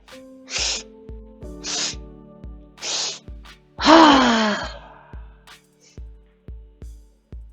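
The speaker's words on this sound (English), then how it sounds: "Just let it all go when you come down with that big ha." A yoga class exhales together in a big breathy "ha", a loud open-mouthed release following several shorter sighing breaths, close and unaccompanied by talk.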